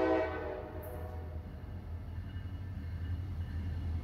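A CSX freight locomotive sounds a short horn blast at the start that quickly fades. A steady low rumble of the passing train follows and continues to the end.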